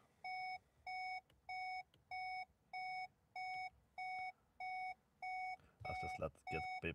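Dashboard warning chimes from a VW Golf mk7.5 on the bench with sensor faults, ten evenly spaced loud electronic beeps in a steady rhythm, then a burst of clattering noise as the last beeps continue.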